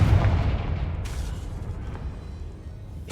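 A Confringo blasting spell explodes in Hogwarts Legacy: a heavy, loud blast right at the start that rumbles and slowly fades, with a smaller impact about a second later.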